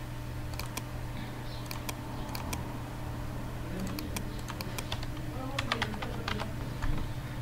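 Computer keyboard typing while entering details into an online army application form, a scatter of quiet, close key taps over a steady low hum of room noise.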